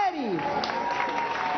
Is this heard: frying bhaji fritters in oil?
no